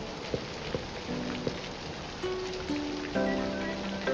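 Steady rain patters in the farming life-sim game Littlewood, a continuous hiss of drops spread evenly through the clip, while soft tonal game music notes and chimes ring out over it. Nobody speaks.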